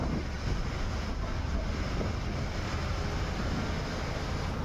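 Floodwater rushing through a swollen stream after heavy rain in Porbandar, a steady dense roar of flowing water mixed with wind buffeting the microphone.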